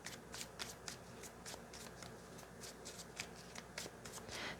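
Tarot cards riffled and shuffled by hand, a steady run of crisp papery bursts close up, with no talking over them.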